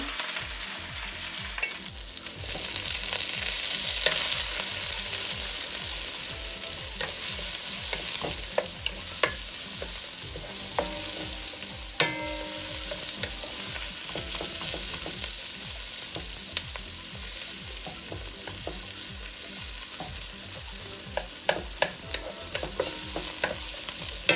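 Onion frying for pork minudo, a loud, steady, close hiss of sizzling oil that carries on unbroken, with occasional small spatula taps and crackles scattered through and no talking.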